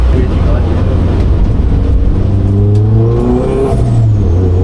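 A Renault Mégane RS in a rally accelerates hard, its loud engine note rising in pitch as it revs, then shifting, with heavy low rumble and road noise throughout.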